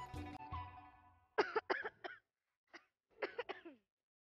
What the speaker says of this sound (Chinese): 咳嗽如此厉害，